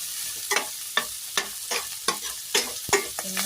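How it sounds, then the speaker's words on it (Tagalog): Ginger and onion sautéing in a pan for a mung bean dish, a steady sizzle broken by rhythmic scrapes of a spatula stirring about every half second, close and moderately loud with no talking. "Luto muna natin kaunti ang ating ginger at saka yung ating onion"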